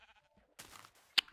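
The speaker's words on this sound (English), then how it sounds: "However, I do need to kill a sheep." A Minecraft sheep bleats, a short near baa followed by a sharp hit sound, with faint game tones before it.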